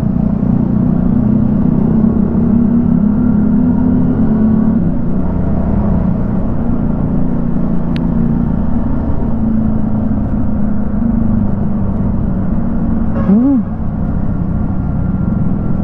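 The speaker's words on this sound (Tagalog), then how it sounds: "Underbelly exhaust." A car's underbelly exhaust rumbles in a loud, constant low drone while driving, steady for the whole stretch, with a brief higher whine near the end.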